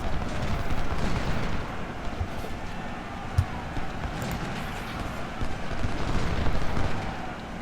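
Musket volleys and artillery fire in the Civil War strategy game Ultimate General: Civil War, a steady distant rumble of massed rifle fire with occasional sharper cannon reports, continuous and moderately quiet throughout.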